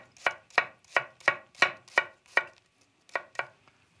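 A knife slicing shallots into thin strips on a cutting board: six evenly spaced crisp chops, a pause, then two more, close and clear with no talking.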